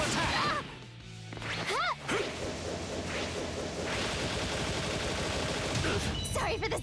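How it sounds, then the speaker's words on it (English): Loud burst in the fighting game My Hero One's Justice 2, a crash-and-whoosh blast over dense game music and effects, with a character voice and a rising swoosh near the start. "Sorry for the sudden explosion!"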